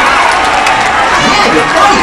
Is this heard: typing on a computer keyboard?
no